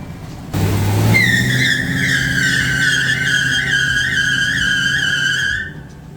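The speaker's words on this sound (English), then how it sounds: "can it do a burnout?" A Chevy Silverado truck doing a burnout: loud, close engine roar with a sustained high tire squeal lasting about five seconds before cutting off.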